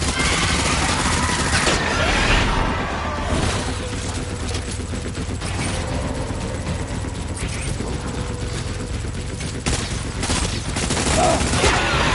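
Continuous rapid gunfire from a firefight in Death Stranding forms a dense, loud barrage that runs throughout, with a faint voice briefly under it.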